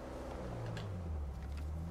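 A car driven in Uncharted 4 gives a low, steady engine drone with slight revving, heard faintly and alone.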